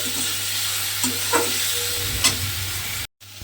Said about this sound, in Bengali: দিয়ে এবার মশলার সঙ্গে ঢ্যাঁড়সটা একটু ভালোভাবে কষিয়ে নিতে হবে।